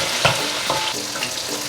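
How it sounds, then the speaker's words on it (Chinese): Tofu frying in smoking-hot oil in a wok, producing a dense, even sizzle close by with a couple of brief clicks and no voices. "把油燒熱，鍋子在冒煙，熱了，把豆腐放進來。"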